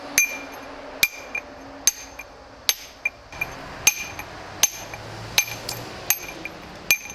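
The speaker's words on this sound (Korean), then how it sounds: "이 망치로 때리면서 여기 한 땀 한 땀 따내는 거예요." A hammer strikes a chisel to carve stone, about a dozen sharp, ringing metallic blows landing at a fairly steady pace, close and loud, with no talking.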